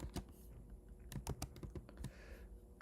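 Typing on a computer keyboard while working through LeetCode problems 1323 and 2460, with fast bursts of clicky keystrokes and short pauses between them, close and fairly quiet.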